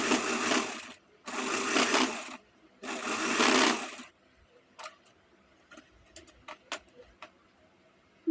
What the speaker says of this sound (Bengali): দেখো এভাবে বসিয়ে আমি লেসটা সেলাই করে নেব।